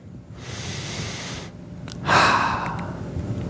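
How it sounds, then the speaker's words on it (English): A person nearby takes slow, deep breaths, first a long airy inhale, then a louder, fuller exhale that trails off, heard on its own without talking. "So take a deep breath."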